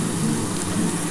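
Potatoes and onion fry in hot oil, giving a loud, continuous hiss and crackle that runs steadily throughout with no talking.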